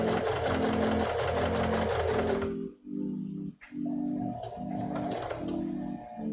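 A sewing machine stitches a piece of a symbiote suit spider emblem, running in steady bursts with a rhythmic thumping pulse, pausing briefly before starting again close by.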